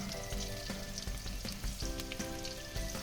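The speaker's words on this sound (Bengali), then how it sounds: "এবারে বেগুনটা লাল লাল করে একটু ভেজে তুলে নেব" Eggplant pieces coated with turmeric and salt fry in oil, a loud dense sizzle and crackle with rhythmic stirring knocks throughout.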